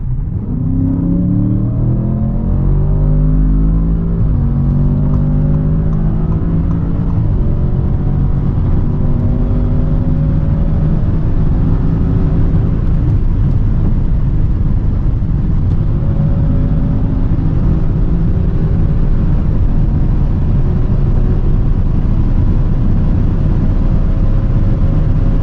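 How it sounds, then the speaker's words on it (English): A 2023 Audi S8 accelerating hard from 100 to 200 km/h, loud sustained engine roar heard from inside, rising through gear changes with deep rumble and road noise throughout, no talking. "So let's now see how fast the S8 goes from 100 to 200."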